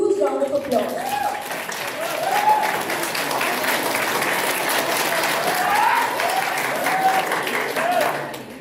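A conference audience at a dental and facial aesthetics event claps loudly and continuously to welcome a speaker, full and sustained, with a few voices and some background music under it.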